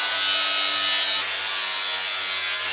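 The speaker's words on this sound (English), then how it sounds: "if you've cut with a jigsaw before, you know it's never gonna be perfectly straight" A jigsaw cuts through a new floor panel for an LS3-swapped Land Rover Defender's 6L80E transmission, giving a steady, loud, close buzzing whine that runs without a break and with no talk.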